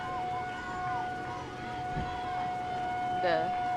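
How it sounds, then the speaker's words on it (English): A civil defense siren wails at noon on a Saturday during a college softball game, a steady rising-and-falling tone carrying from a distance under a commentator's talk. "Sorry, fans, about the loud noise. Yep. It's 12 o'clock on a Saturday. We got the sirens going off."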